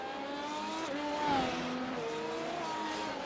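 An F1 race car in a racing video game at Interlagos runs off the track, its engine droning steadily with the pitch dipping and wavering, plus a brief tire squeal in the middle.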